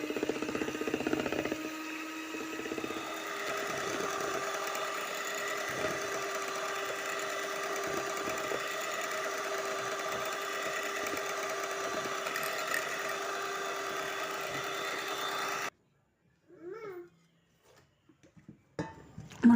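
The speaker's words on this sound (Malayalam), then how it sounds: "നെക്സ്റ്റ് നമുക്ക് ഇത് നല്ല രീതിക്കൊന്ന് ബീറ്റ് ചെയ്തെടുക്കാം" An electric mixer whirs steadily and fairly loud for about fifteen seconds, beating eggs in a bowl for a cake batter, then stops, leaving brief faint clatters.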